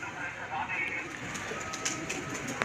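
Pigeons coo softly in the background while someone talks over them, their low murmuring calls mixed with faint bird chirps.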